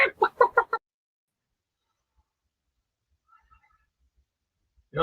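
A short burst of chicken clucking, four or five quick close clucks used as a sound effect, then near silence until a voice starts at the very end.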